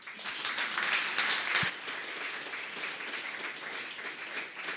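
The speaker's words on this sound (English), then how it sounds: "let's give another round of applause to Patrick." Conference audience at PyCon.DE 2017 giving a round of applause after a talk, dense clapping from many people that swells early and then settles to a steady, moderately distant patter.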